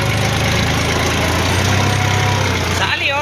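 A forty-horsepower tractor engine idling on a farm, a steady low rumble running continuously and close, with a voice talking over it.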